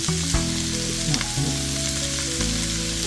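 Spaghetti frying in a pan for a Ghanaian-Asian stir fry, a close, busy sizzle crackling steadily with scraping stirs and small clunks from the pan.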